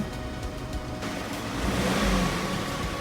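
A Maruti petrol car engine with about 43,000 km on it runs after being started following an oil fill, a steady close hum that swells slightly midway and then settles.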